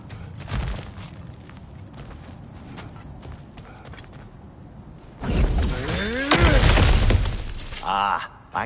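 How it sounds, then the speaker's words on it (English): Objects smash and shatter in God of War Ragnarok, with crashing, breaking impacts that swell loudly in the second half over a steady rumbling backdrop. "back to smashing through things for fun and profit"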